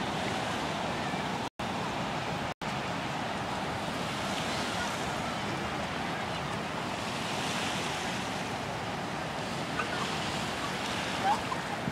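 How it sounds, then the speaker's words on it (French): Ocean waves wash steadily onto the beach at l'Ermitage, a constant broad roar of surf with some wind buffeting the microphone, lasting throughout with two brief dropouts near the start. "On va aller se rapprocher des flots."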